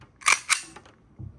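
Pulling the trigger of a BB pistol produces two sharp snapping clicks in quick succession, close and crisp, followed by a softer click and a dull low thump.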